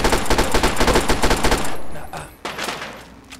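Rapid automatic gunfire from a submachine gun in the video game Fallout 3, loud and close, as a fast burst of shots that stops abruptly, followed by a couple of weaker trailing shots.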